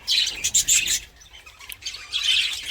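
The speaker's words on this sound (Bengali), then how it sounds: "দেখুন পাখিগুলো সব চারিদিকে বসে আছে" Small birds, some of them young chicks, chirp in quick high bursts close by, with a brief quieter gap mid-way before the twittering resumes, and no talk.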